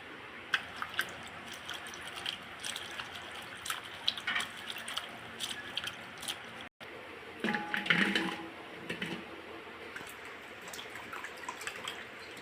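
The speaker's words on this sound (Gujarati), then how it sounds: "પહેલાં ગુવારને ધોઈ નાખી પાણીમાં" Cluster beans (guvar) being washed by hand in water in a home kitchen: close, intermittent splashing and dripping with brief sloshes and a louder burst of water movement partway through, no talking.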